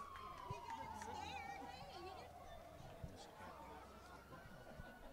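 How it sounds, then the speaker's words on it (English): Police car siren wailing at a high school football game between Perryville and Desoto, a steady, fairly loud descending wail with crowd chatter and an announcer talking over it. "those sirens that you're hearing is not the buzzard here at the football field"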